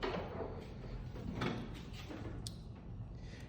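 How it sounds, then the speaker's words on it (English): A door opens with a low rumble and a few soft clicks and knocks, nearby, followed by a faint higher squeak near the end. "let me open this door real quick."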